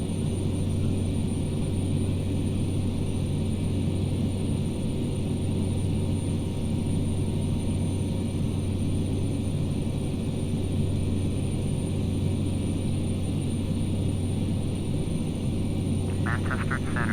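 Saab 340 turboprop in Flight Simulator X, a steady droning engine rumble holding constant throughout with a faint whirring hum and no variation in level.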